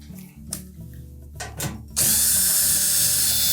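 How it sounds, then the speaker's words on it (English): A power driver backs quarter-inch hex head screws out of the back panel of a Whirlpool washer cabinet, with a few clicks and taps followed by a loud, steady whirring drive. "we're going to remove these 1/4-inch hex head screws that secure that back panel to the cabinet."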